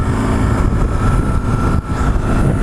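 A 2004 BMW R1150GS motorcycle cruises along with a steady, loud engine drone and wind rumble, continuous and close, with no talking.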